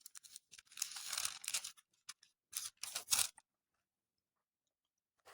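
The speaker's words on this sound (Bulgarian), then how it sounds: "Чакайте да обърнем страницата." A Bible page being turned, a close, quiet run of dry paper rustling and crinkling in several short bursts, then silence.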